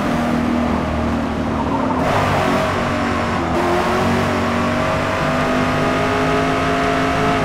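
A race car engine in the video game Forza Motorsport roars continuously and loudly, revving and pulling hard with a steady high whine throughout, with no talking.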